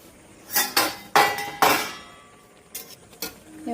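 A metal lid goes onto a cooking pot of milk and coconut with several sharp clanks and clinks in quick succession, then two softer taps, close and clear.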